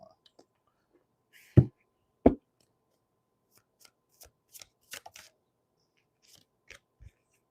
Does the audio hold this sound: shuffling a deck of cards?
yes